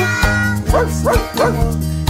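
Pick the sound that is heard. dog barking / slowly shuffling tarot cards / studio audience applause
dog barking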